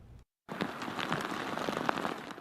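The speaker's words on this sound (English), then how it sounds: "Rain once again makes an appearance on the Central Coast, falling on and off Monday morning and into the afternoon." Rain falls on and off on the Central Coast, a steady dense patter across the band after a brief cut to silence, with scattered louder drops standing out from the continuous wash.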